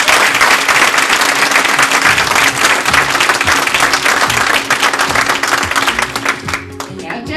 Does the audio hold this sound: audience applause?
yes